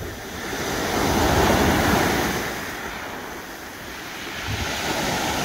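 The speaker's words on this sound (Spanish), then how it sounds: "Ahorita se encuentra el agua un poco alborotada," Rough surf breaks on a sandy beach at Playa Himalaya in Sonora, a loud, steady wash of churning waves with wind buffeting the microphone.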